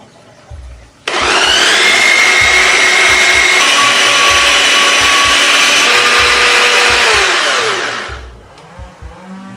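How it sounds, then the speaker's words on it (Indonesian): Electric food chopper blitzes garlic, shallots, chili and shrimp paste in one loud, steady whirring run of about seven seconds, starting abruptly and winding down at the end, with a few soft clatters before and after. "Terus kita mau giling pakai choppernya."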